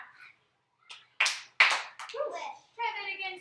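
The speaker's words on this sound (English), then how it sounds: "2 claps." Children in a classroom answer a teacher's call with two sharp hand claps in quick succession, followed by young voices speaking in unison.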